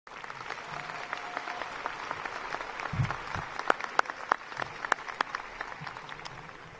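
Graduation crowd at Manchester West High applauds in a steady round of clapping, with scattered sharp individual claps and a few cheers standing out over the wash.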